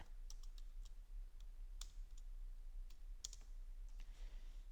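A computer mouse clicks faintly while someone works in Blender 3D software, giving sparse, sharp, irregular clicks over a low steady hum.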